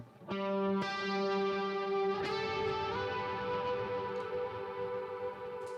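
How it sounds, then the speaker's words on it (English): Electric guitar on a Gretsch Silver Falcon Players Edition runs through drive, reverb and chorus pedals, with a sustained chord struck a few times, shimmering and lingering with a wash of modulated reverb trailing each strum. "Here's some drive and reverb with the chorus pedal."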